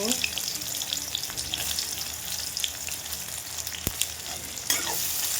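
A steady, close sizzle of onions frying in a pan with dried and green chillies, with occasional clinks and stirring noises over the crackle.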